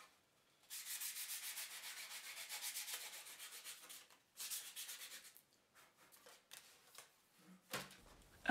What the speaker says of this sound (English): the backs of the folds are rubbed gently to flatten them